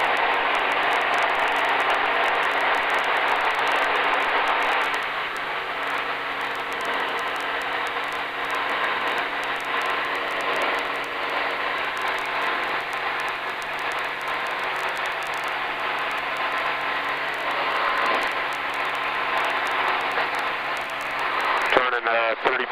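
A Sonex light aircraft engine drones steadily at 3,400 RPM during climb out, a constant loud hum heard from inside the cockpit that briefly cuts off at the end.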